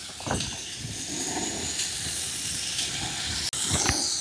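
Chopped vegetables hiss and sizzle steadily in a hot pan as they are sautéed for Chinese-style momo filling, a constant close frying sound with a brief clatter near the end.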